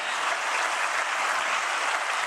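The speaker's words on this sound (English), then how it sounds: "Another round of applause" Audience applause at a live event in Kigali fills the clip, steady and dense clapping heard from a moderate distance with no talk over it.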